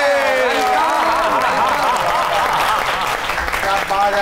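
A studio audience on a Pakistani comedy talk show gives a warm round of applause for the young poet Umair Najmi, sustained clapping blended with a voice and music over the whole stretch.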